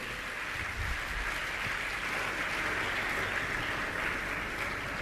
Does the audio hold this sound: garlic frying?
no